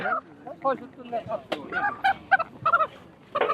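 Chickens cluck and squawk in a rapid, uneven series of close calls at a rural weekly haat in Belkuchi, Sirajganj, with a busy market hubbub and faint voices beneath.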